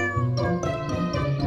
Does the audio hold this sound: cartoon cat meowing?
yes